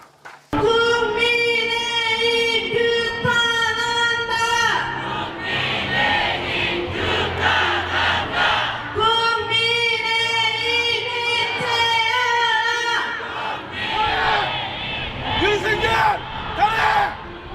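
A crowd of citizens at a street rally in Daegu chants and cheers in loud, rhythmic waves of massed voices, steady and close for the whole stretch.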